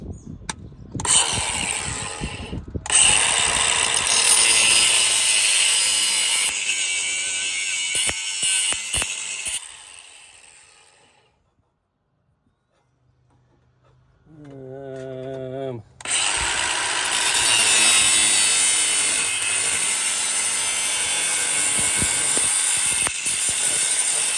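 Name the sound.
mobile grinder grinding metal scrap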